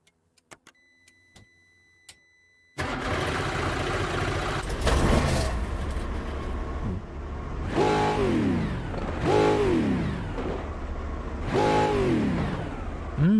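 A Brazilian Stock Car V8 engine in the iRacing sim cranks and fires up after a few faint clicks, then idles roughly with three loud rising revs, close and alone.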